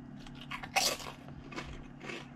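Walkers cheese and onion crisps crunched close up, several sharp bites and chewing crunches, loudest near the start and tapering off.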